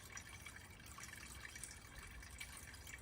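Deionized water pouring into the coolant expansion tank of a 2011 Volvo V60, a steady close trickling and splashing of liquid that runs unbroken with no voices.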